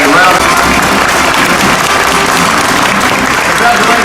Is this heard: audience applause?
yes